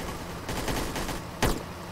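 Dense bursts of gunfire from a Roblox military game (BHM5): a cluster of rapid shots in the middle, then one sharper, louder blast near the end, over constant game background noise.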